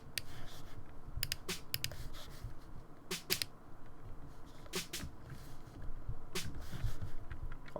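Stock FL Studio VTSD vintage snare from the Legacy drum pack, played dry with no effects: sharp isolated cracks landing in an uneven rhythmic pattern, close and upfront with nothing else behind them.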